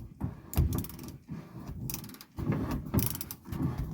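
A wrench ratchets in repeated bursts of clicking close up while loosening a sender on a 1982 Mercedes 300D under the hood, with short pauses between strokes.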